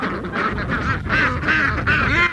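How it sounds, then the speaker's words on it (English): A dense flock of ducks and geese at a farm honks and quacks continuously and loudly, many overlapping calls in a busy, close chorus without pause. "I've never seen so many ducks in one spot."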